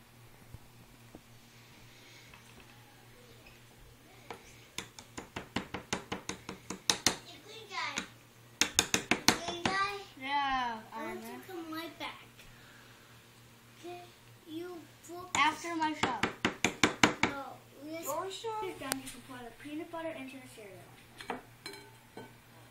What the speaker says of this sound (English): Go ahead and stir it, Ty.